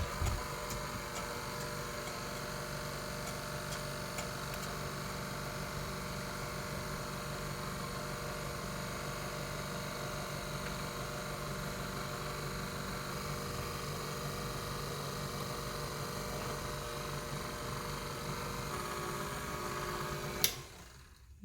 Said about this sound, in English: we're gonna have the mixer going very slowly